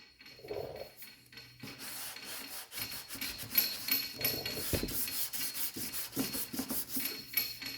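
A sanding block rasps over the body panel of a 1963 Cadillac Coupe DeVille in long, steady back-and-forth rubbing strokes. The scraping runs close and loud after a short quiet start.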